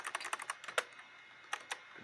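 Fast bursts of keystrokes on a computer keyboard in a late-1990s PC setup, a quick run of close, crisp clicks followed by a pause and two more isolated taps.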